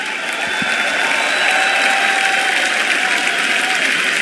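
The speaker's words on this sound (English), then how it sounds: "The crowd is just going crazy for Heroic here." A large arena crowd at The International Dota 2 event roars and claps for Heroic, a dense, continuous wall of cheering and applause with shrill whistles and shouts.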